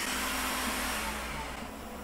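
Steady airy whir of a cooling fan on a Creality K1 3D printer blowing on the hot nozzle, a constant hiss-like hum that fades slightly toward the end.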